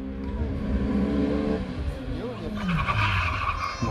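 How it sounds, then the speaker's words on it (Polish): Rally car at a stage race braking hard, engine revs dropping into a sharp tire squeal and skid, loud and nearby, with a commentator talking over it. "Mocne hamowanie."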